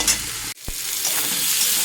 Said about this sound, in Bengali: দিয়ে আবারও আমি আলুগুলোকে ভালো করে কষিয়ে নেব।